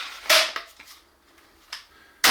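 A Cobra R9 blaster, freshly fitted with a magazine conversion, fires two sharp, loud snapping shots about two seconds apart, with small clicks and rattles of the mechanism in the quiet between.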